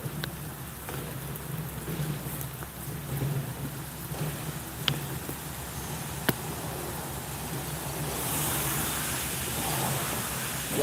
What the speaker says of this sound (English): I think it's starting to rain.